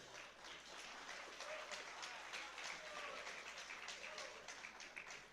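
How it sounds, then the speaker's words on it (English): Applause from the crowd at an MMA event after a three-round fight, honoring both fighters. The clapping is steady and moderately distant, and an announcer's voice carries over it. "let's cheer for both fighters in what was an excellent contest."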